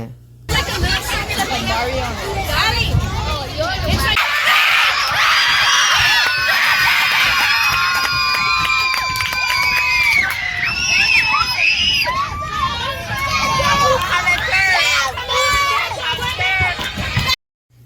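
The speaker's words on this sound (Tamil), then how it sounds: "ஸோ பிள்ளைங்களோட சவுண்டு கேளுங்களேன் எப்படி கத்துறாங்கன்னு" Schoolchildren at a school sports day on a Caribbean island scream, shout and cheer as a loud, dense crowd, with high excited voices swelling through the middle and steady babble throughout.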